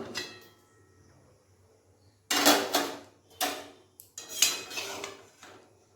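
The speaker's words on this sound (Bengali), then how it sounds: "এরপর আমি ঢাকাটা খুলে নেব" A lid is lifted off a cooking pot of vermicelli pulao after the gas is turned off, giving a few loud metallic clanks and rattles in separate bursts after a quiet start.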